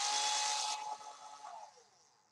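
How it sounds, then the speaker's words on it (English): A loud high-pitched whirring drill runs steadily, then winds down in pitch and fades over a couple of seconds, with nothing else heard. "a drill sounds like this."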